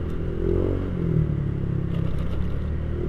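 A motorcycle engine rumbles and revs on a Jakarta road under the Semanggi overpass, a loud low throb swelling twice, with road clatter and passing traffic.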